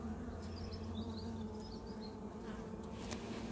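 Honeybees buzzing around an orphaned hive, a dense steady drone of many bees close by with individual wingbeat whines flitting past, no talking.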